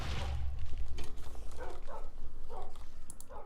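Several dogs barking in the video game Crash Landing, repeated short barks in an uneven rhythm over a low rumbling background.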